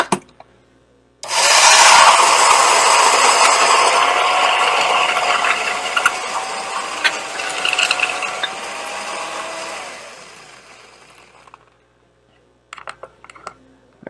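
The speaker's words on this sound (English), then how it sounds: "All right, to the spindle blender we go." A spindle drink mixer whirs through crushed ice for a tiki cocktail, starting abruptly, a loud steady grinding whine for about ten seconds, then stopping, followed by a few small clinks.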